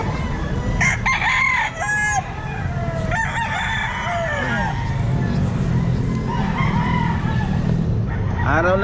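Chickens and roosters at a pet market, several roosters crowing loudly and repeatedly with clucking in between, all over a busy, noisy background.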